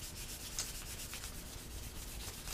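Close scratchy strokes of sandpaper rubbed by hand over a carved wooden spoon, a brief run of steady back-and-forth abrasion without talk.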